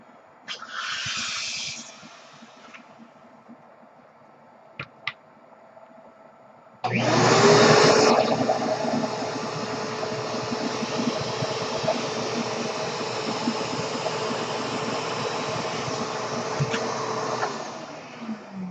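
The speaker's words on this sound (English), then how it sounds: "what happens when we introduce our vacuum to the back of it?" A vacuum cleaner runs behind a balloon rocket. A short burst of air comes first, then the motor starts abruptly, a loud steady whine and roar that holds for about ten seconds before winding down.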